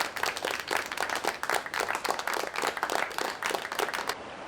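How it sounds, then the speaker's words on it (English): Applause sound effect played for a stream audience, a steady patter of many hands clapping at a brisk rhythm, moderately loud and fairly close, cutting off abruptly at the end. "But have some applause anyway"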